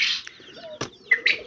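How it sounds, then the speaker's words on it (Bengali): Quail chicks and fifteen-day-old local chicks in a brooder give scattered high, thin chirps, several brief peeps close by, with a sharp rustle in the middle. "আমার কিছু দেশি মুরগি কোয়েল পাখির বাচ্চা প্লাস ব্রয়লার মুরগি বোর্ডিং চলতে আছে"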